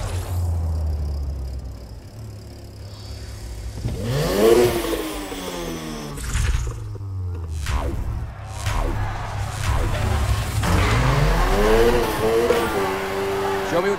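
A car engine revs and accelerates repeatedly in the racing game Need for Speed Heat, loud and close, with shifting pitch sweeps and clattering over a steady engine drone, while voices talk over it.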